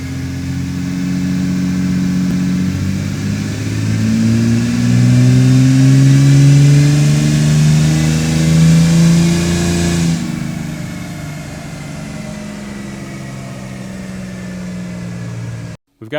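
A diesel truck engine on a dyno with an electronic wastegate turbo, droning loudly and rising in pitch through a long run for about ten seconds, then dropping back to a steady lower hum.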